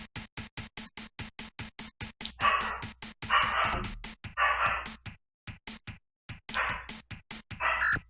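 A dog barks in the 16-bit Genesis role-playing game Buck Rogers: Countdown to Doomsday, loud harsh bursts repeating over a steady rapid clicking pulse of chiptune music.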